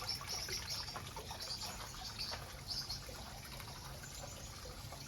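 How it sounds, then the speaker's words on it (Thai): Water trickling from a small homemade garden waterfall, a continuous soft splashing flow heard close and steady, with faint bird chirps in the background and no talk. "น้ำตกเสร็จแล้วนะคะ"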